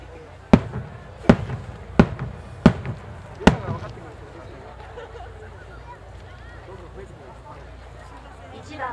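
Five sharp, loud firework blasts from No. 10 shells at a fireworks contest in Nagano, Japan, go off about a second apart, each echoing briefly, followed by a long rumbling tail of crowd murmur and outdoor noise.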